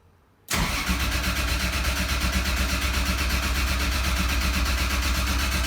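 A Nissan 240SX fitted with a 2JZ engine cranks on ignition, its loud, close starter churn bursting in abruptly after a moment of near quiet and then running on in a steady, rapid rhythmic grind, with no speech.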